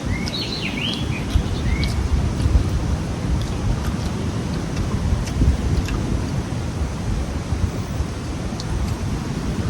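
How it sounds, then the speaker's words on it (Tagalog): Strong wind blows by the sea at Kalangalog, a steady broadband roar buffeting the microphone throughout, with a few faint bird chirps early on. "ang lakas ng hampas ng hangin sa Kalangalog."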